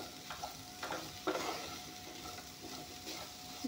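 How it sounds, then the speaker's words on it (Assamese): Vegetable stalks frying in a pan with oil, a steady soft sizzle under repeated scraping and stirring strokes of a spatula, close and fairly quiet. "এয়া চাওক ধুনীয়াকৈ ভাজি ল'লোঁ ডাঠাখিনি"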